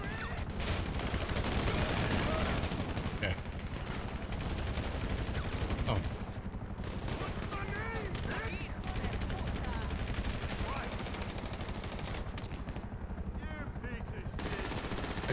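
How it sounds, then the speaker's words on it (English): Sustained automatic gunfire from a shootout in the video game GTA 5 Online, dense rattling bursts rolling almost continuously for the whole stretch with brief gaps, loud and close, with voices talking over the shooting. "I'm shooting from the other side."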